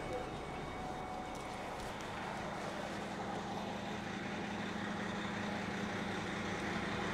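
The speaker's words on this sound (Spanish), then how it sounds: "vamos a escuchar la chulada de motor que trae esta unidad" A 2008 passenger bus with an automatic transmission and a Series 60 engine idles steadily up close, giving a continuous low droning rumble with an even hum that holds constant throughout, with possible faint voices in the background.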